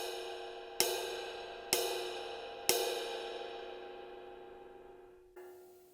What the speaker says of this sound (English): play 4 strokes with the right stick or the right hand